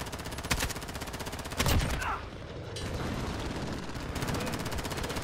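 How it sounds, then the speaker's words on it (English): Gunfire at a VTOL aircraft in the video game Modern Warfare: bursts of rapid automatic shots, with a couple of heavier blasts and steady mechanical noise underneath, moderately loud throughout. "Shooting on the VTOL right now."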